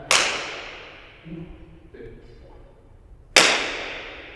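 Two sharp, loud hand claps or slaps about three seconds apart, each with a short ringing decay, and brief indistinct voice sounds between them.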